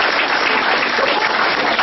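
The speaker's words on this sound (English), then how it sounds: "If you believe that with me, clap right now." An audience at a guest speaker event claps steadily for a couple of seconds, a dense, even burst of applause with no talk over it.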